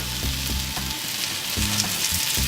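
Potatoes with vegetables and olive oil frying in a pan, a loud continuous sizzle and crackle with periodic low scraping of stirring, close up and without speech.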